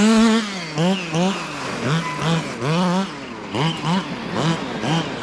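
A 1/6-scale FG Marder nitro RC buggy runs its small two-stroke engine, rising and falling through a series of quick revs with a buzzing, harmonic whine at close to moderate range.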